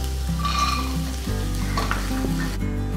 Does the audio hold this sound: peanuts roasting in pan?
yes